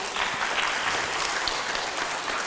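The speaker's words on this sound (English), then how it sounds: "One applause, please." Audience applause at an international student management conference, a steady dense wash of many hands clapping throughout, fairly loud and continuous with no talk.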